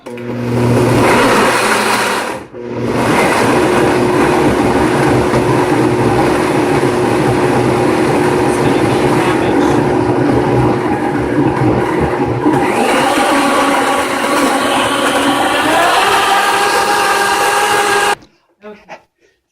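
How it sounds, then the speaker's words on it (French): A blender runs steadily for about eighteen seconds, whirring loudly as it mixes a green protein smoothie with added water. The motor's pitch shifts partway through, then stops abruptly. "je vais rajouter de l'eau et mélanger tout ça. Et on y va!"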